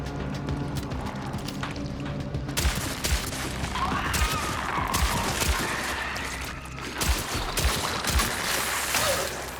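Gunfire in the video game Cronos: The New Dawn, a series of sharp shots scattered through the clip over a busy, dense game soundscape with music and effects, with no speech.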